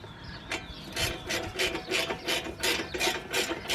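Close ratchet strokes tightening a 17 mm front brake bolt on a 2011 Nissan Quest, a steady run of about nine raspy clicking pulls in an even rhythm, heard alone without talk.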